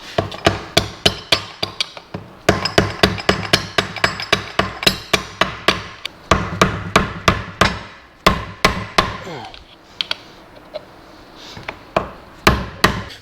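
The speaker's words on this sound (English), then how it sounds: "next thing we need to do is bend the lock tab back" Repeated hammer blows bending back a gearbox lock tab during a Classic Mini remote gearbox rebuild, sharp metallic strikes in quick irregular bursts, close and loud, with brief pauses between runs.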